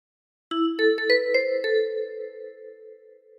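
Phrase 2 of Bella Ciao on a 10-key kalimba, six quick plucked metal-tine notes in a short melodic run whose ringing overlaps and fades out gradually, close and unaccompanied.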